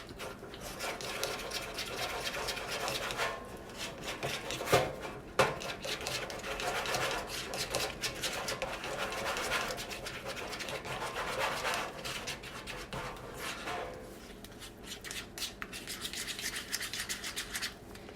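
A fork scrapes and rubs steadily against a bowl while honey butter glaze for a spiral sliced ham is mixed, a continuous close scratchy stirring with a couple of sharper clinks partway through.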